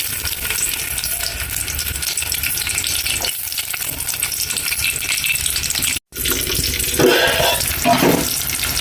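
Onions sizzle loudly in hot oil in a pan, a dense steady frying hiss heard up close throughout, with brief stirring movements and no talking.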